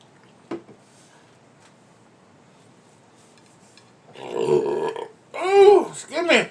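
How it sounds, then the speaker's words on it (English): A loud, close burp, made while eating oven-roasted beef eye of round, comes in two drawn-out voiced bursts after several seconds of near silence broken by a single small click. "Ooh, excuse me. Smoke burp, y'all."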